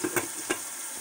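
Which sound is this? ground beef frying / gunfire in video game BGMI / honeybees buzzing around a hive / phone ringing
ground beef frying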